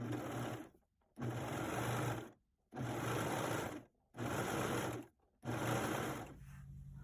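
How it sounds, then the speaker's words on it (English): A cover stitch sewing machine runs in four loud, close bursts separated by short pauses as it sews elastic onto the top edge of underwear, each run a steady, fast mechanical whirr. "I'm sewing it directly to the top using my cover stitch"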